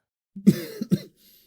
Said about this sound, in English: As you can see, I'm still coughing.